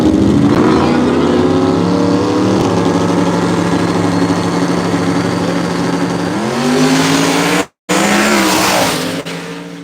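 Race cars running at a night racetrack event, engines roaring steadily and loud close by with tire squeal and skidding, the sound cutting out briefly near the end before resuming and fading.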